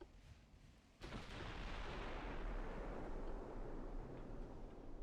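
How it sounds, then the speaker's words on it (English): Naval shell ricochet during a 1940 German cruiser battle in Ultimate Admiral Dreadnoughts: one sudden heavy boom that is followed by a loud, sustained roaring rumble that fades only slightly, with no talking. "Ricochet."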